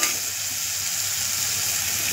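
Dried shrimp and pea masala sizzles in a pan as it is stirred, a close, steady frying hiss with soft scraping throughout.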